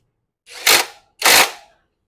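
A Dekton M21 IW550Pro cordless impact wrench hammers on a bolt in two short, loud bursts, each about a third of a second long and separated by a brief pause, with no talk.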